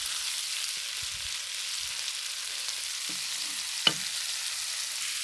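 Beef and bean sprouts stir-frying in a pan, with a steady faint hiss of frying, a few soft low bumps and one sharp clink near the end, with no talking.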